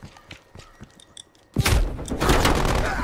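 A proximity mine detonates in Black Ops Cold War, sudden loud blast with crackling debris after a run of quieter mechanical clicks and footsteps, the explosion rumbling on to the end.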